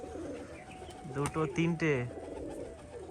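Pigeons coo at a pigeon farm with a jhamor pigeon among them: a short run of rounded, throaty coos, fairly close, under and between a man's speech, with quieter coos trailing after.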